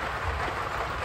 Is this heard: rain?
yes